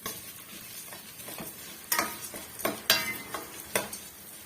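Garlic cloves and dried red chillies sautéing on a medium flame, a quiet low sizzle punctuated by several distinct spatula taps and scrapes against the pan.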